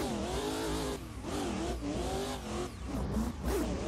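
Engine of a Pro M4 / Focus rallycross car in a driving game as it runs from dirt onto pavement, revving hard with pitch swooping up and down through gear changes and throttle lifts, with some tire noise and no talking.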